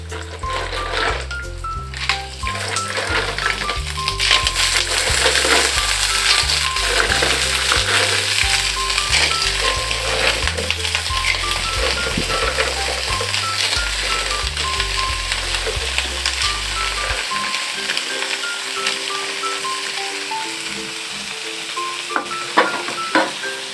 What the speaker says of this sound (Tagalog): Ngayon, lalagay na natin yung ating binili na tahong.